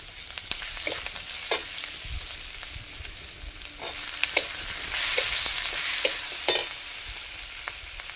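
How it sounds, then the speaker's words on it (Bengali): Ginger and chopped tomato sizzle and fry in a pan over onions, a steady crackling hiss broken by scattered sharper pops and a few clinks of stirring, close and continuous with no talking. "একটু আদা দিয়ে দিলাম, এটা লাল লাল ভেজে নেব।"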